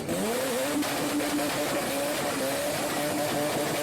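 A Mazda RX-7's rotary engine revs loudly nearby, its buzzing tone climbing and dipping in quick waves over a steady hiss, running a bit rich.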